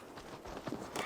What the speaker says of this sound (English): now we can finally gallop